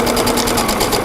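A home sewing machine stitches steadily along a marked line on quilting fabric, its needle whirring in a fast, even rhythm throughout, close and continuous with no talking.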